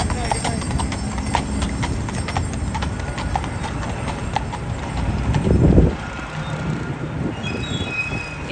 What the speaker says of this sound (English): NYPD horses are the best.